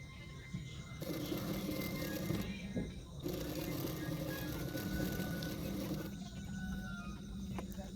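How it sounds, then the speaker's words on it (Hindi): A sewing machine stitches along the side seams of a kurti, a steady mechanical whirr running in continuous bursts with a short pause near the middle, close and moderately loud with no talking. "सिर्फ किनारे किनारे पे सिलाई कर रही हूँ और दोनों साइडों में मैं एक एक सिलाई कर दूँगी इस तरह से।"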